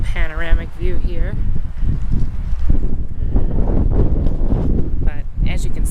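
Low, broadband wind rumble buffets the microphone throughout at the Rio Grande Gorge, New Mexico, with a person's voice briefly audible near the start and again at the end.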